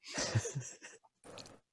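A single person's sneeze indoors, a short sharp burst followed by a brief pause and a second breathy exhalation, close and fairly loud.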